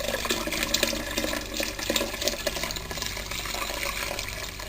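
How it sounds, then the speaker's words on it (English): Fresh hot water runs in a steady rushing stream onto the mash during brewing of a strong ale, close and continuous with splashy texture throughout. "while we are extracting the wort down there, we supply fresh hot water"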